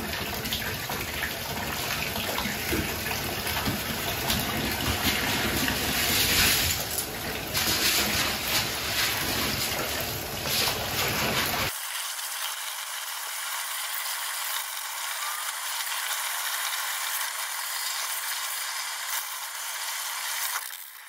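Bulk Lego pieces rattle in mesh bags as they are shaken and left to drain, a steady wet clatter and trickle of water that drops to a thinner, hissing drip partway through.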